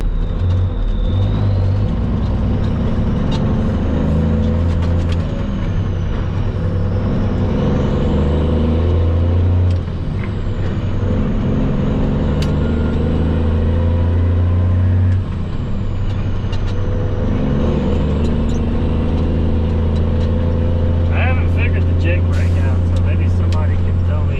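A Peterbilt truck hauling fill dirt drives along with a steady low engine rumble throughout, close and loud, with occasional air-brake hisses and clanks; someone talks over it at times.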